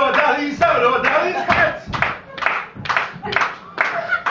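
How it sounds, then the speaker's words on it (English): Audience in a comedy club claps slowly in unison, about two sharp rhythmic bursts per second, close and loud, with a performer's voice talking over the beat. "Stop clapping because it's too slow"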